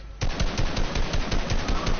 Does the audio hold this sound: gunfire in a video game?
yes